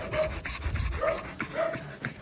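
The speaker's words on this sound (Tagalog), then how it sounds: "Kawawa ang itsura ng mga asong isinilid sa sako. Hingal na hingal at hirap huminga." Dogs stuffed into sacks pant hard and fast, a steady near breathing rhythm with occasional faint whimpers, alone without talk.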